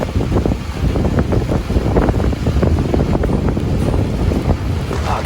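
Strong storm wind buffets a sailboat at sea, a loud, steady roar with gusty rumbling and water noise filling the whole clip, no voices.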